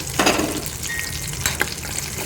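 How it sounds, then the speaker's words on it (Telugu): Mustard seeds, cumin, urad dal, chana dal and dried red chillies sizzle and crackle in hot oil for a green chilli chutney tempering, with sharp close pops and stirring scrapes and no talk. "ఆవాలు జీలకర్ర కొంచెం మినపప్పు పచ్చనపప్పు అట్లాగే ఎండుమిర్చి ఇవి పోపు దినుసులు వేసేస్తున్నాను"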